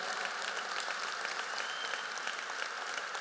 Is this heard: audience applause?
yes